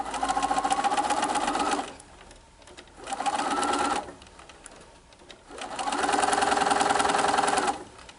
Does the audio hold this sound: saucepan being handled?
no